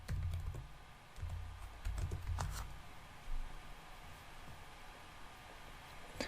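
Keys tapped on a computer keyboard while a search term is entered, a short quiet burst of soft clicks near the start followed by scattered keystrokes over a low room hum.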